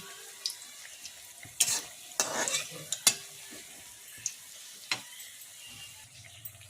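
Malpoa made from a semolina and baking soda batter fries in oil over medium heat, a steady bubbling sizzle broken by sharp clinks and scrapes of a spatula stirring the pan; no one speaks.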